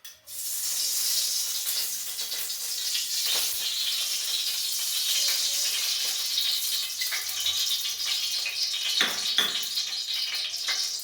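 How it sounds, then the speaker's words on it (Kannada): Coconut oil poured into a hot frying pan, making a steady, loud, hissing sizzle that starts abruptly and continues close throughout, with occasional sharper crackles. "ಬಾಣಲಿ ಬಿಸಿಯಾಗಿದೆ ಇವಾಗ ಎಣ್ಣೆನ ಹಾಕ್ಕೊಳ್ತಾ ಇದ್ದೀನಿ ನಾನಿವತ್ತು ತೆಂಗಿನ ಎಣ್ಣೆನ ಹಾಕ್ಕೊಳ್ತಾ ಇದ್ದೀನಿ"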